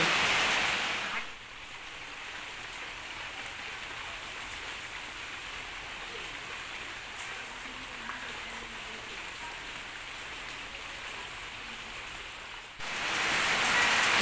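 Heavy rain pours steadily during a fierce windstorm in Kerala, a broad, even hiss with a louder gust of noise at the start and end.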